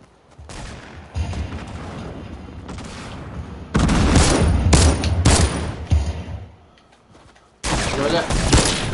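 Shotgun blasts in a PS4 video game, several loud bursts in quick succession with gaps between, mixed with game noise and a voice talking over them.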